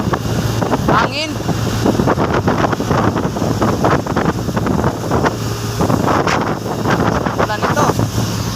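Strong wind buffets the microphone in a steady, loud roar, with low rumbling gusts and a person talking faintly in the background, on a seashore with rough waves as rain approaches.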